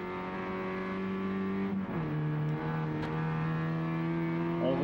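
Rally car on gravel tyres at a 2005 rally event in Maniwaki, engine droning with steady harmonic tones, a brief gear-change dip midway, then pulling on strongly and evenly, heard from on board.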